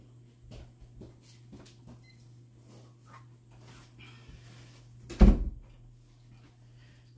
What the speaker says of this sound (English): Now closed the door.